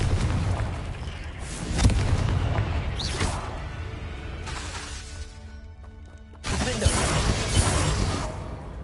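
Confringo blasting spells in Hogwarts Legacy explode with loud, close booms and crashing bursts, several in quick succession with a lull before another blast.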